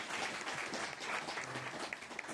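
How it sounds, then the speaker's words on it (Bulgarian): Applause from an audience at a rock concert, a steady wash of clapping that carries on throughout at moderate level, with no talk over it. "Силни аплодисменти за..."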